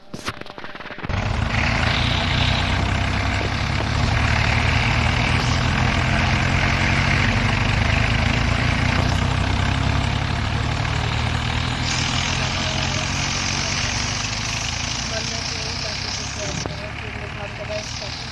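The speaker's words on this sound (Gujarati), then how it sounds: "ડ્રોન પણ કરી દઉં।" A drone in flight gives a steady, continuous buzzing whir close by. The sound starts abruptly after a second of quiet and then holds fairly even for about seventeen seconds.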